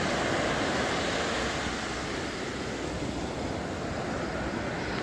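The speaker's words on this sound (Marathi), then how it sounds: "लाटा बघा कशा आपटतायत एकामेकावर." Sea waves at Bhate beach breaking against one another in a continuous loud roar of surf, with wind buffeting the microphone, no voices over it.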